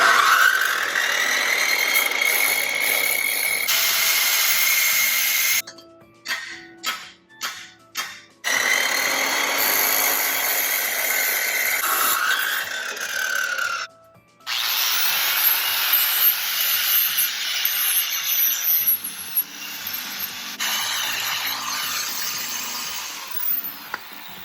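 A power tool cuts metal stock for a homemade one-piece bumper guard, a loud sustained grinding whine broken by a few short bursts and a brief pause before resuming steadily.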